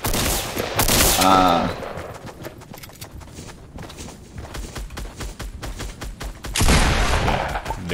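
Shotgun blasts in an old-school Roblox Fortnite match, two loud broadband bursts several seconds apart with quicker footstep-like clatter and brief vocal sounds between them.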